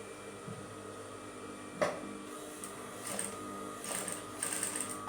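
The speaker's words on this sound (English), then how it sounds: "Sewing" A sewing machine stitches the waist of a straight skirt, running in a steady mechanical whir with short pauses and renewed bursts, close and moderately loud.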